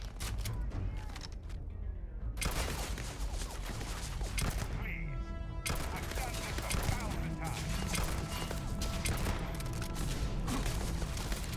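Gunfire in a Starfield firefight, a dense run of shots and clattering impacts filling the whole stretch, loud and continuous, with a short quieter gap partway through.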